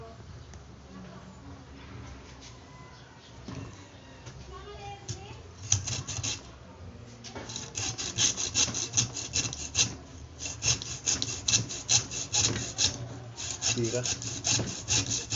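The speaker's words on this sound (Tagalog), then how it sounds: "kukuha ka na ngayon ng lagari. Lagariin natin to." A hand saw rasping back and forth through wood in quick rhythmic strokes, close by, with a few spoken words mixed in.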